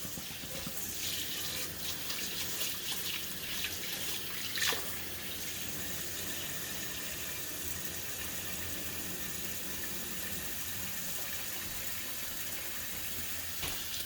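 Tap water runs steadily into a sink while basmati rice is rinsed, a continuous hissing wash with a few brief splashes and no voices.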